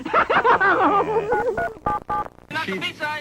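Telephone touch-tone dialing beeps, a short run of separate tones following a spoken line, with more talking afterward.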